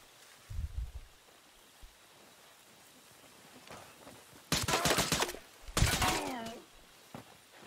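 Gunfire in a squad-based shooter video game: two sharp bursts of rapid shots, fairly close, separated by quieter thuds, with a brief voice near the end.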